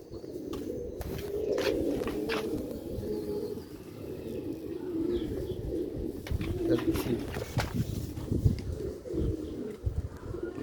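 Pigeons kept on a rooftop in Sialkot coo steadily up close, low throaty calls overlapping with occasional wing flutters, soft chirps and faint footsteps.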